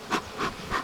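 Honeybees buzzing around a hive, three brief close passes of humming drone rising and fading in quick succession.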